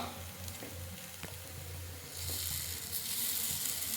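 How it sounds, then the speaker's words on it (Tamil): Paniyaram batter fries in a pan, a soft steady sizzle close by that swells into a brighter, louder crackle partway through. "இது ஒன் சைடு நல்லா வேகட்டும்"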